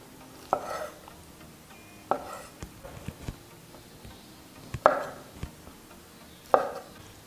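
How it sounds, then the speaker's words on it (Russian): A knife chops cooked liver lightly into portion-sized pieces. Four or five soft, sparse knocks land on a board, spaced apart over quiet background. "Печень нужно слегка измельчить, не сильно."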